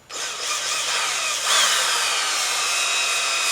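A cordless drill whirs loudly and steadily as it bores into material, the motor pitch shifting slightly partway through. No voices.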